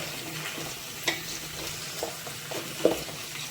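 Tomatoes and turmeric are stirred in a pan for drumstick sambar, the spoon scraping and tapping in irregular strokes over a low, steady sizzle up close.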